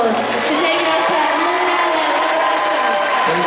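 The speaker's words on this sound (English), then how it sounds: "everybody needs to give a massive round of applause to David Arquette" A large crowd at a horror rock and wrestling fest applauds and cheers for David Arquette, a loud, dense, continuous roar of clapping and whoops throughout.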